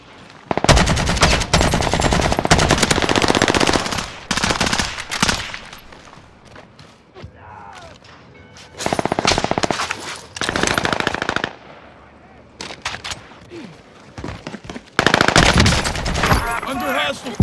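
Heavy automatic gunfire in the video game Call of Duty: Modern Warfare comes in loud, dense bursts separated by quieter gaps with radio-style voice lines under the shooting.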